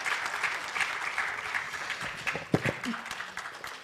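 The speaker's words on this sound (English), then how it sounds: "A round of applause for them." Audience applause at a women's leadership forum in Africa, a steady wash of many hands clapping across the room for departing panelists, continuous and moderately loud with a few sharper claps standing out.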